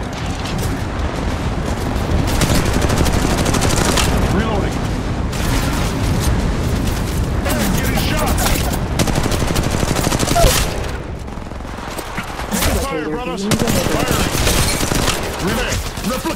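Dense, loud gunfire from the video game Apex Legends: sustained automatic bursts and booms layered over each other almost without pause, with in-game voice callouts now and then.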